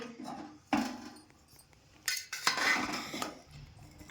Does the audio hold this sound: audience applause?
no